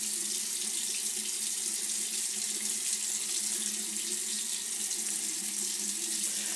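Steady running water from a bathroom tap into a sink while a man washes his face, a continuous close hiss and splash at an even level throughout, with no voices.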